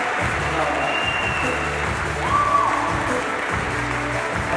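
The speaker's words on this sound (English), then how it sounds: "We got the guys clapping. Can we put our hands together in unison?" Spectators at the 2022 Freestyle Trampoline World Championships clap together, a steady crowd sound that runs beneath a voice and low tonal background sound for the whole stretch.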